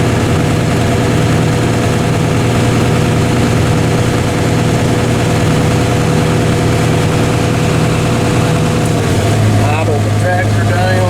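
Tractor engine idling loudly during a corn harvest, a steady deep droning hum with a constant pitch that shifts slightly near the end, heard close and continuous.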